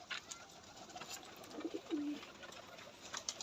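Pigeons at a pigeon farm in West Bengal, a soft low cooing phrase heard faintly against a quiet background of ambient noise.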